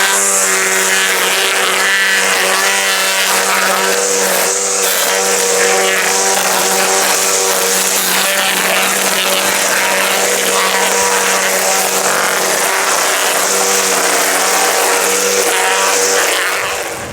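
An EGO 56V cordless line trimmer cuts through thin lawn grass, giving a loud, steady high-pitched whine with tonal harmonics that holds unbroken for about seventeen seconds and eases off slightly at the end.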